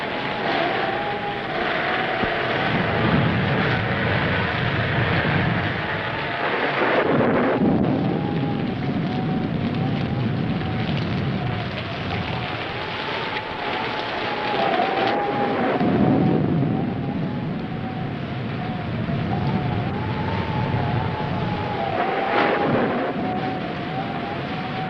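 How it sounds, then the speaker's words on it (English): A film thunderstorm with steady rain and low rolling thunder that swells and fades, loud and continuous, with a faint wavering tone running through it. "we'd better get out of here before this storm gets any worse."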